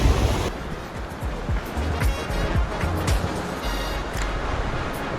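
Ocean wash surges and churns against the rocks at a Sydney rock-fishing spot. The broad, steady rush of surf comes with gusty wind buffeting the microphone and occasional low thumps.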